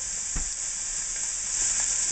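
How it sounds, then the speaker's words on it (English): Onions hitting a hot pan, a bright, dense sizzle that holds steady throughout, close and loud, with a faint clunk near the start and no talking. "There goes our onions."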